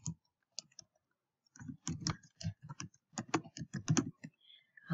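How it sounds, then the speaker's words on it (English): Keys clatter on a computer keyboard in quick irregular bursts of clicks, close and fairly faint, with brief pauses between runs of typing. "type in my first line."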